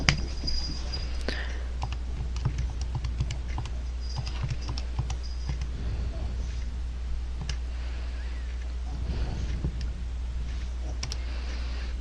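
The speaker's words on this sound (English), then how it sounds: "and I'll type that in my calculator" Buttons on a calculator are pressed in a series of quick, light plastic clicks, some in rapid runs and some spaced apart, close up over a steady low electrical hum.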